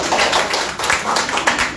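Audience at a ceremony breaks into brisk, steady applause, with dense overlapping hand claps of even loudness that fill the room for the whole moment.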